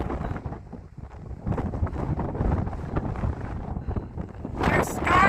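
Strong gusting wind buffets the microphone on Blackrockhut Mountain's 3,098-foot summit, a continuous loud roar that swells and surges, peaking sharply near the end.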